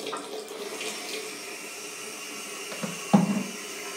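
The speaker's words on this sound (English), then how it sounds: "I'm going to wash my hands, so apologies for the tap" Water runs steadily from a tap during handwashing with pink chlorhexidine gluconate soap, a continuous close hiss and splash with a small burst of splashing near the end.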